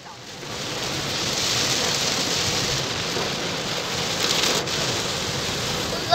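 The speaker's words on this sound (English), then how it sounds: "The rain! I'm recording the rain!" Heavy rain pours on a car driving along a ring road near the Japan Garden City area, a dense, steady close hiss of drops on the roof and glass that stays constant throughout.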